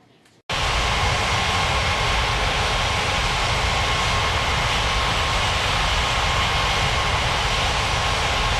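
An aircraft landing in the Unmatched Air Traffic Control video game, heard as a sudden, steady, loud broadband engine roar that starts abruptly and continues without letup.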